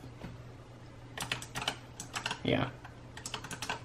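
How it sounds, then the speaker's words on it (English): Keys on a Razer Huntsman Elite clicky mechanical keyboard clatter in quick irregular bursts of sharp clicks, close to the microphone, with a brief spoken word mixed in. "but I'm just typing like random stuff."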